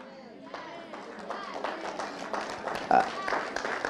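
Church congregation clapping during a sermon, scattered claps building into steadier applause under a preacher's voice.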